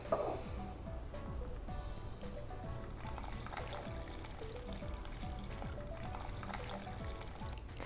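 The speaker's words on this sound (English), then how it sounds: "to this, I am going to add 100 grams of warm water" Warm water pours steadily into flour for semolina pasta dough in a continuous trickling stream, close and fairly quiet, with faint background noise.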